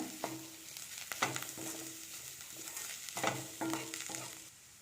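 Cauliflower stuffing with mint and coriander leaves is stir-fried in a pan, a steady sizzle broken by repeated scraping strokes of the spoon, close and alone.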